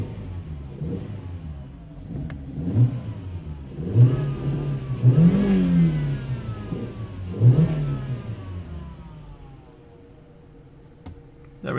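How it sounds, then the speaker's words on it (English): A BMW E90 320i with a rough idle and poor accelerator response revs under throttle blips, rising and falling several times in a row before dropping back to a lower, quieter idle. "my throttle actually responds okay."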